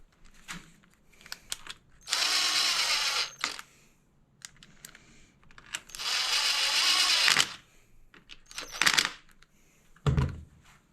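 Hand ratchet tightening the oil filter cover bolts on a 2018-2022 Yamaha YZ450 dirt bike during an oil change, two long close ratcheting runs with short clicks and metallic taps between them.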